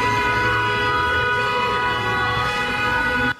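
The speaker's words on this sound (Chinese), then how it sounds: "还沿路狂按喇叭回击。" An SUV driver's car horn blares in one long, unbroken, loud tone on a busy road in Sanchong, New Taipei, ending abruptly.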